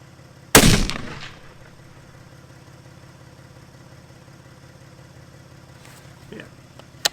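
One loud, sharp rifle shot from a custom .300 WSM during load development outdoors, fading quickly into a quiet hum, followed by faint small clicks.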